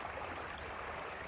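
A forest creek runs along the edge of a property and gives a faint, steady wash of flowing water with no voices over it.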